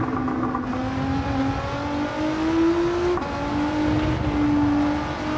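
A Nissan GT-R race car engine in Gran Turismo 7, holding a steady high drone with gradual pitch rises as it accelerates, close and loud throughout a lap with no talk.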